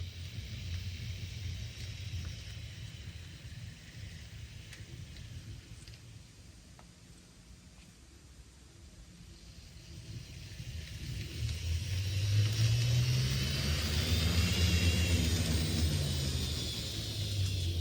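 An Atlas Master N scale GE Dash 8-40CW model locomotive runs with a faint, steady mechanism hum that is almost imperceptible at first, then grows slightly louder and higher with rising speed toward the end.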